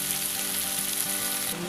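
Washed fish heads sizzle steadily in hot oil while frying for murighonto, a close, even crackle with no voices, ending in a brief soft clatter.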